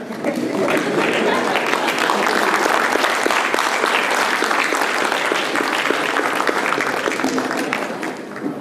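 Audience at a university convocation claps continuously, a dense, loud, even patter of many hands that swells and holds for several seconds before easing slightly at the end.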